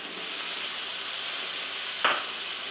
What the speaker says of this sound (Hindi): चिकन को मैंने फ्राई कर लिया प्याज के साथ। अभी मैं इसमें डालूँगी टमाटर